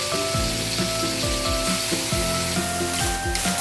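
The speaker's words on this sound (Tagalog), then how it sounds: "Haluin po natin." Chicken tinola sizzling in a pan as it is stirred, a continuous frying hiss over repeated scraping strokes of a utensil against the pan, close and fairly loud.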